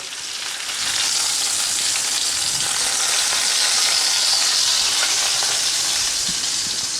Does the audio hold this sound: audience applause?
no